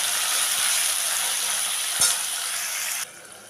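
Tomato sizzling with coconut in a hot pan, a steady close hiss of frying that holds for about three seconds before dropping off suddenly, with one faint clink partway through.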